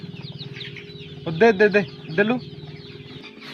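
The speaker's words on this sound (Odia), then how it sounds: "ଆଉ ଯୋଉ କୁକୁଡ଼ା ମାନଙ୍କୁ ଦେଖିବା କେଡ଼େ କେଡ଼େ ହେଇଛନ୍ତି କୁକୁଡ଼ା ମାନଙ୍କୁ" Chickens on a desi poultry farm give a few close, loud clucking calls in short bursts over a steady low hum, with a brief word of speech at the end.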